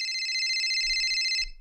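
A telephone rings in the horror video game Abandoned, a steady bright electronic trill that holds at moderate volume and then cuts off abruptly near the end.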